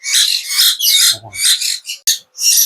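Baby Chittagong hill myna chicks squawk loudly and close in a rapid run of harsh, overlapping calls with a short low rustle partway through.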